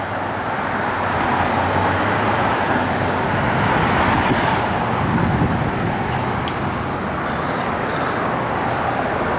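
A 1966 Plymouth Fury III with a factory 2-barrel carburetor and new dual exhaust, idling and rumbling steadily at close range, a low continuous drone with a slight swell partway through.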